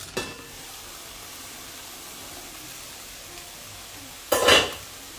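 Moringa leaf sabzi cooks in a pan, a faint steady sizzle running under a mostly quiet stretch, broken by a light clink at the start and a louder brief scrape or stir near the end.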